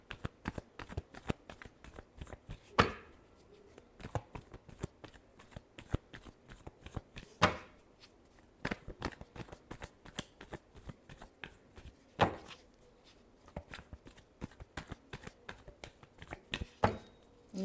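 A deck of tarot cards is shuffled by hand, with a rapid series of crisp flicking riffles and periodic louder slaps as the cards are squared, close and clear, with no voices.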